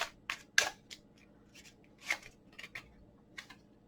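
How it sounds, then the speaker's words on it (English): Tarot cards are shuffled and laid out, giving soft, sparse papery flicks and light snaps at close range, with quiet gaps between them. "Let me just draw a couple cards."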